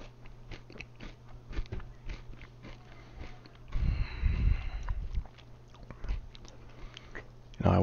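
Crunchy granola cereal being chewed close to the mouth, a dense crackling burst of bites lasting a couple of seconds amid a quieter background hum.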